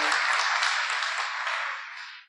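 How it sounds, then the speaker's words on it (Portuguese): A church congregation applauds in a steady wash of clapping that holds evenly, then fades out quickly near the end. "Dê forte esse aplauso ao Rei."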